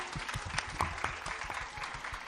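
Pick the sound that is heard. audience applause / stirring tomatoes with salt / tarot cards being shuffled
audience applause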